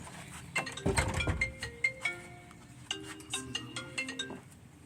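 A telephone ringing with a repeating electronic melodic tone, several clear beeping notes in succession, fairly close, with faint clinks in the background.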